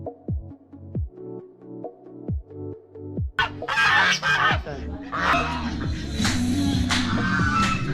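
Loud, rhythmic honking from domestic ducks at a farmhouse at night, repeated calls close by, growing into a dense, overlapping clamor of many birds.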